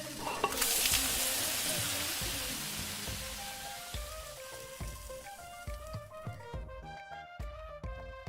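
Jeera and chillies fry in a pan in the video game Venba, opening with a loud sizzle that fades while a gentle melodic music track comes up beneath it.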